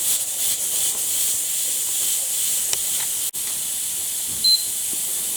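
The weight on a pressure cooker hisses softly and steadily on the stove, a continuous airy steam sound with a faint beep near the end.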